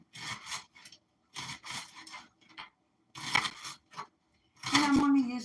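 A knife slices vegetables very thin for lo mein, giving short rasping cutting strokes in separate bursts with quiet pauses between them and a squeak near the end.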